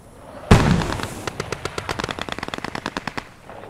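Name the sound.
machine gun fire in video game Post Scriptum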